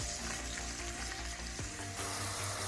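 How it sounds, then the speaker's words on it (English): Diced onion fries in a mix of oil and melted butter, giving a dense, continuous close sizzle with a brief utensil knock partway through, loud and alone. "Now I'll add 1 medium diced onion."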